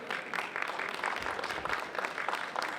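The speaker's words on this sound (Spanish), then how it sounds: "este primer aplauso es para ustedes, muchachos" An audience at a talk on a proposed new constitution in Antofagasta gives a round of applause, a soft, distant-sounding wash of steady clapping throughout.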